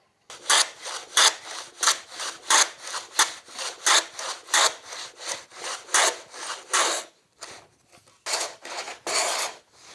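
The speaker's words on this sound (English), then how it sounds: "I'm going to trim this down a little more with the shooting board" A hand plane trims plywood on a shooting board in a rapid, regular series of close rasping strokes, a brief pause, then a few more slower strokes, with no talking.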